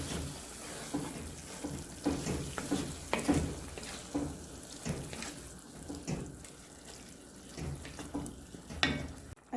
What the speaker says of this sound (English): I did add a little bit of water,